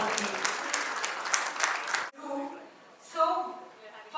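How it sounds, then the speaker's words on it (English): Audience applause at a corporate excellence awards event for Tavant Technologies, a dense wash of clapping for about two seconds, then it stops and a voice speaks over the quiet hall. "Let's hear a big round of applause for the leading figures of Tawant family"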